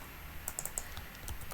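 Light typing on a computer keyboard while entering form text, a few quick soft clicks in a short burst, then a couple more, faint against a low steady hum.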